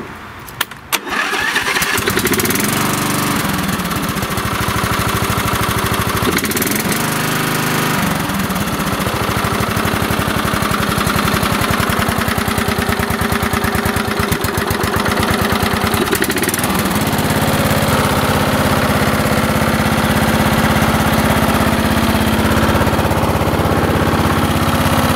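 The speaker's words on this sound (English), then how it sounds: "everything's tightened up, and this engine now will not be knocking." A Briggs & Stratton flathead engine on a riding mower, just repaired after a knocking fault, cranks and catches, then runs loudly and steadily for the rest of the clip with no voices.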